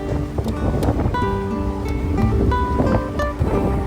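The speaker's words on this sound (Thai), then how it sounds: "เรือสปีดโบ๊ทกำลังแล่นอย่างเร็วไปด่วนฉีเลยนะครับ" A speedboat races fast over calm sea near Ko Samet. Its engine makes a continuous roar alongside rushing water and wind buffeting the microphone, loud and close for the few seconds.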